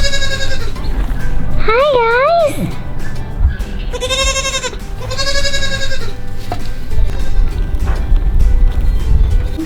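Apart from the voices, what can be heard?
baby goats bleating on a farm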